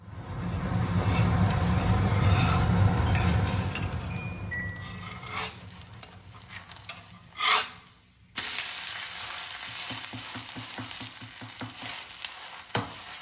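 Foxtail millet chilla sizzles steadily in a pan, loud and close at first, then settling under a lid into a softer, even crackle broken by a brief gap and a few clinks.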